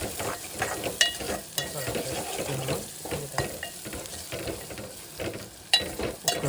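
Ginger cooking in a pan, a steady soft sizzle with irregular scraping stirs and a few sharper clinks of the utensil against the pan, close and continuous without any voices.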